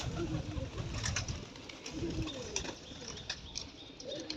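Pigeons cooing close by, soft low rolling coos repeating over a rustle of wings and movement, with faint chirps in the background.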